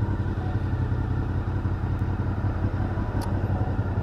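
A Honda VFR motorcycle engine runs nearby with a steady, loud, throbbing hum and no change in pitch, heard alone without talk.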